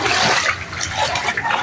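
Floodwater from a flooded neighborhood rushes and splashes loudly and steadily, a broad continuous wash of moving water close by with no talking.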